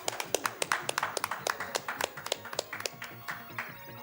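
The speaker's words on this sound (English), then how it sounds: "I think that deserves a clap" Hands clapping in a rapid, steady rhythm, a run of about twenty crisp, close claps with faint voices underneath.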